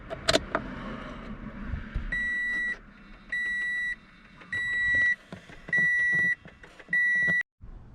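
Ignition key of a 2008 Toyota Corolla turned two clicks to on, a couple of faint clicks followed by five evenly spaced electronic dashboard chimes, each lasting about half a second.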